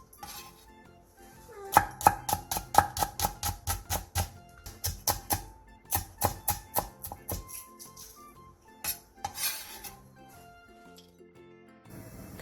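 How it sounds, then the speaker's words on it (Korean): A knife chops a red Cheongyang chili pepper and a third of a green onion on a board. Crisp, rapid strokes come in quick bursts, then sparser cuts follow after a short pause, all close and clear without talk. "청양 홍고추 1개를 어슷 썰고 대파 3분의 1개를 쫑쫑 썰어주세요"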